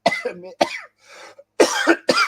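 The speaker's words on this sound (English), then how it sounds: "Coughing and wheezing." Several harsh coughs in quick bursts, close and loud, with a raspy breathy pause between fits.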